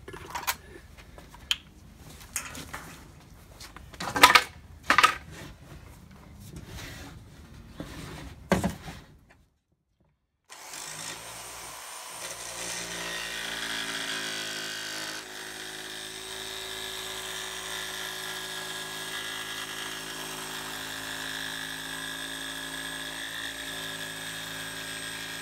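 Power tool cutting out a wood floor panel for a Volkswagen Beetle. Clicks and handling noises come first, then a steady whining motor drones for over ten seconds with the pitch shifting slightly as it cuts.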